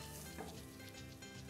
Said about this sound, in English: we're adding our onions for even more sweet and delectable flavor